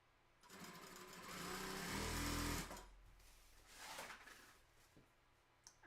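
A sewing machine stitches a tutu, its motor whirring in a steady buzzing run that swells for a couple of seconds, then eases into lighter intermittent stitching with a few small clicks.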